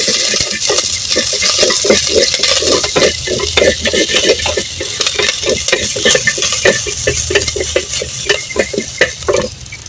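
Curry leaves, onion and four green chillies being stirred in hot oil in a pan for drumstick sambar, with a steady sizzle under repeated scraping strokes of a spoon against the metal, loud and close, no talking.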